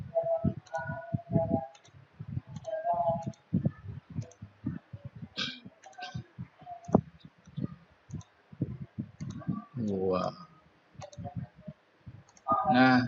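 Mouse clicks, sharp single taps scattered irregularly over several seconds, close and clear, interleaved with someone speaking.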